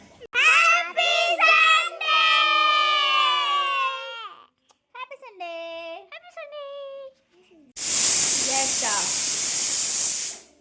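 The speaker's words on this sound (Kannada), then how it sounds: "ನಮ್ಮ ಮನೇಲಿ ಕುಕ್ಕರ್ ಸೀಟಿ ಹೊಡಿತಾ ಇದೆ ಈಗ." Someone speaks and whines for several seconds, then a pressure cooker lets out a loud, sustained hissing whistle of steam.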